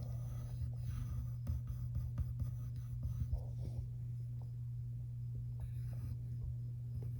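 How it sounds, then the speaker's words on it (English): Pencil sketching large circles on paper for a drawing of Snow White's eyes, soft scratchy strokes repeating over a steady low electrical hum, fairly quiet and close. "So you're going to draw these big circles."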